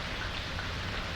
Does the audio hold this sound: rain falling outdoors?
yes